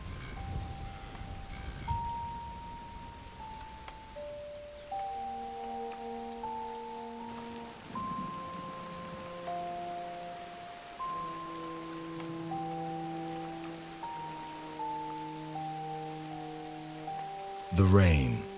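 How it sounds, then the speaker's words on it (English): Sudden rain pours over the Serengeti plains, a soft steady patter in the background beneath sustained tonal music, ending with a brief louder burst. "the skies open up, showering the plains with long-awaited rain"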